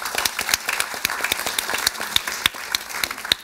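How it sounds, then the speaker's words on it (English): An audience applauds panelists at a panel discussion, a sparse scattering of distinct hand claps with a lively, uneven rhythm and no voices over it. "Round of applause for our panelists"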